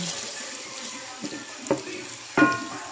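Garlic is dropped into melted butter in a pan for butter garlic shrimp, a soft sizzle with a couple of brief clatters and spatters, faint and close.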